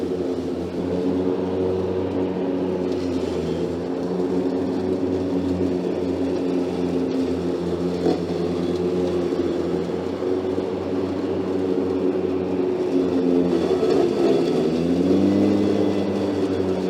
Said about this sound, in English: Just hear the power, the torque in the motor.